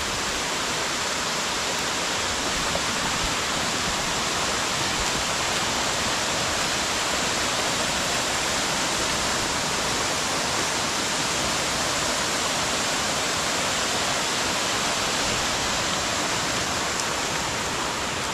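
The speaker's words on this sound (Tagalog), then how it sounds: "Malakas yung tubig ng ating falls dito ngayon" Waterfall running strong after rain, a dense, continuous roar of heavy flowing water with no break or change throughout.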